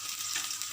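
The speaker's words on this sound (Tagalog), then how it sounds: "Lutuin lang natin si hotdog." Hotdogs frying in a pan give a steady, continuous hiss of sizzling oil, close and fairly quiet, with no voices over it.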